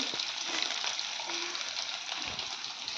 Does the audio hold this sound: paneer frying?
yes